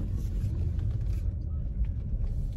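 A car's engine rumbles low and steady from inside the cabin as it eases into a parking spot, a continuous muffled drone with no other sounds over it.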